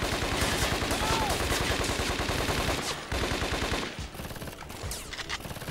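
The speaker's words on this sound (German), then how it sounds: "Ich würde sagen, wir ballern einfach mal so lange drauf, bis" Sustained rapid automatic gunfire from the video game Scarface, dense and loud bursts continuing for several seconds, thinning into scattered shots and clatter toward the end.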